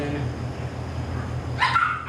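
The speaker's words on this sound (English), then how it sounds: "these dogs, I pardon these dogs because, you know, we have puppies and they don't know when to shut up" Puppies barking and yipping in a short burst near the end, heard over low steady background noise outdoors at night near a tractor repair.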